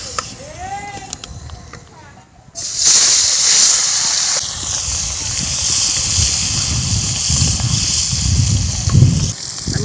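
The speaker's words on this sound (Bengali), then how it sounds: "আমি ট্যাংরা মাছ ভাজবো, তাই আমি একটু ঢাকা দিয়ে দিই ভাজবো।" Tengra fish dropped into hot mustard oil in a wok set off a loud, steady hissing sizzle that erupts suddenly and carries on continuously, with faint talk and clatter before it.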